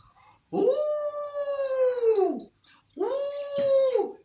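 A wolf gives two long, rising-then-falling howls, fairly close and clear, separated by a short pause with no talk.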